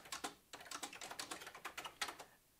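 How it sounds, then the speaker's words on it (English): Someone types in quick irregular bursts on a word processor keyboard, each keystroke clicking crisply close by. A short pause comes early in the run. "You can start typing immediately"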